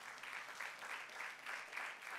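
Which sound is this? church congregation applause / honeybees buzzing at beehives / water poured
church congregation applause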